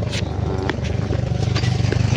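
Borrowed motorcycle engine running close by, a rough pulsing rumble that grows steadier and more rhythmic, with faint clatter mixed in.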